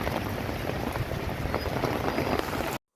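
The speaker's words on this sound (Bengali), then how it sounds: "ঝড় বৃষ্টি দেখতে দেখতে অনেকটা সময়ই চলে গেছে।" Storm rain falls on a rooftop as a dense, even patter and wash, fairly soft and steady throughout, then cuts off abruptly at the end.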